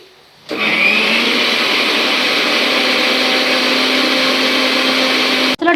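A mixer grinder whirs loudly and steadily as it grinds tomato, garlic, onion, dried and green chilli and ginger into masala, starting abruptly and running several seconds before a quick stop and restart.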